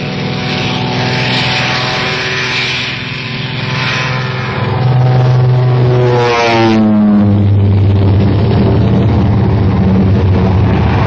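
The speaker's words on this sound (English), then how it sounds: "hundreds of Royal Air Force planes engaged in a non-stop aerial offensive over occupied Europe" Royal Air Force WWII propeller aircraft engines drone loudly and continuously on an aerial offensive over occupied Europe, the roar swelling as planes pass close overhead with shifting pitch.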